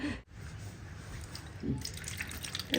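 Raw green mangoes rinsed under a running kitchen tap, a steady close splash of water with brief drips and a fuller gush of flow toward the end.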